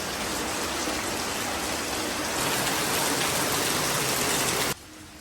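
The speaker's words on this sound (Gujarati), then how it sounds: "ચાલો, જો વરસાદ ચાલુ છે એટલો બધો." Heavy rain pours down steadily in a village, a dense, loud, even hiss close by that swells slightly partway through and then cuts off abruptly near the end, with no voices.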